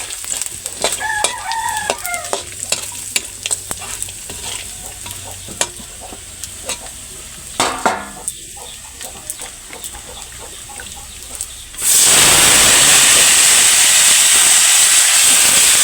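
Garlic for karabad sauce frying in a pan, with steady sizzling and stirring scrapes close up; around midway the hiss swells into a loud, dense roar that fills the rest.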